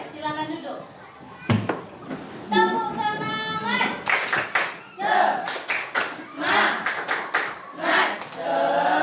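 A primary school class in Indonesia runs through the tepuk semangat chant, with bursts of rhythmic hand clapping between sung and spoken call-and-response words. Clear voices are heard throughout, fairly close.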